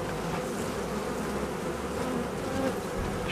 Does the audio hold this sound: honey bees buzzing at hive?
yes